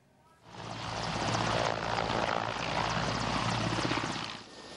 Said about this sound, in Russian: Это один из транспортно-ударных вертолетов операции объединенных сил.